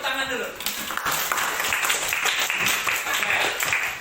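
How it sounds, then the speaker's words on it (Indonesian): A class of students in a PJOK (physical education) lesson applauds together, a steady dense wash of clapping lasting the whole stretch at an even level, with some voices mixed in. "Ya, tepuk tangan dulu."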